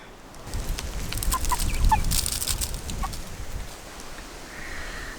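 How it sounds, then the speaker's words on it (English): Chickens clucking at feeding time on an off-grid homestead in Portugal, several birds giving close, short clucks and squawks over a rustling outdoor background. "So I'm just feeding the chickens"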